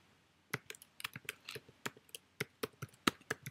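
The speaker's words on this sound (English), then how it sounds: "by typing in this little CAPTCHA." Quick, uneven keystrokes on a computer keyboard as someone types a CAPTCHA, a run of close, crisp clicks and taps with short pauses, no talking.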